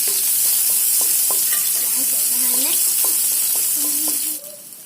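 Onions frying in a kadai are stirred with a utensil, making repeated scraping strokes over a constant hot-oil sizzle. The frying quiets abruptly near the end.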